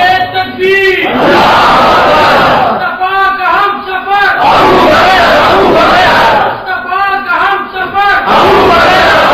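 A large religious gathering answers a preacher's call with loud massed chanting of takbir, powerful repeated shouts from many voices swelling and falling in waves, close and dense throughout.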